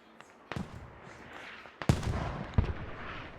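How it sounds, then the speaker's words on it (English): Mortar rounds landing in the tactical shooter Squad during an esports match, with three sharp blasts rising out of a steady rumble, the last two loud and close together. "Mortar's coming down now."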